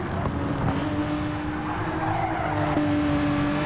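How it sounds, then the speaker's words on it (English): Simulated Porsche Cup race car in Gran Turismo 7 at Suzuka, steady engine drone with tyre scrub and wheel spin squeal, continuous and fairly loud throughout, no talking. "Thought there was a moment there. I heard the wheel spin from Ninoui's car."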